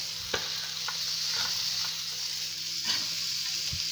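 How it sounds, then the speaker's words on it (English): Carrots sizzle steadily in a hot pan while cooking vegetable rice, with a loud continuous fry and occasional scraping stirs of the spoon close by, no voices. "Then it's time to add all the vegetables. I'm adding the carrots."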